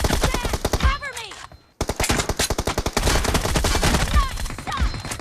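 Video game gunfire with loud rapid automatic bursts, a brief silent gap, then steady repeated shots, with whistling ricochet-like tones and brief game voice callouts mixed in.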